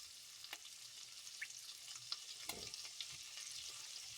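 Potatoes frying in a pan with leftover corned beef and partly sautéed onions, a quiet steady sizzle close up broken by occasional scrapes and stirring clicks, with no one talking.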